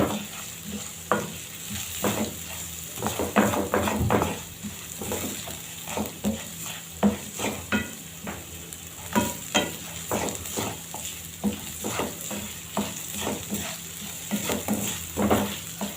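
Rice and spices sautéed in a pan, stirred with repeated scraping strokes over a steady sizzle, close and fairly loud with irregular clinks of the utensil against the pan.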